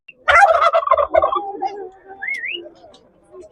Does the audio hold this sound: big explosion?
no